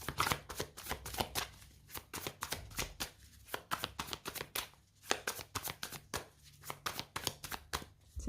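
Tarot cards shuffled and cut by hand, a rapid run of crisp riffling flicks and soft slaps that repeat in quick bursts with brief pauses, close and fairly quiet, no talking.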